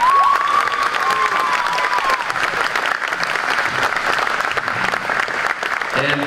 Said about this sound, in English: Another round of applause for Jordan.